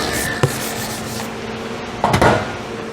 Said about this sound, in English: And a little bit of raised wood here will sand that off.